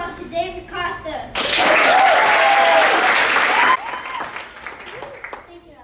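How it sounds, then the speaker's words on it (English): Audience applause at a guild induction ceremony bursts in loudly after a brief pause, holds as a dense, steady patter for a couple of seconds, then drops off abruptly, leaving scattered faint claps and murmuring voices. "Please give a round of applause to David Costa."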